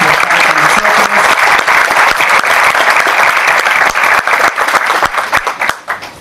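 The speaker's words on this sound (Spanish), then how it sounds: "Para ella también un aplauso." A conference audience at an international management event breaks into loud, sustained applause, many hands clapping densely before the sound thins out into a few scattered claps at the end.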